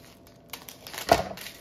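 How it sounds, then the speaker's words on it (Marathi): A ziplock plastic bag being cut open along its side with scissors gives a short crinkling snip that peaks near the middle, close and fairly quiet. "याला असं बाजूने कापून घ्यायचं"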